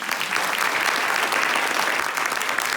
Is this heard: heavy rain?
no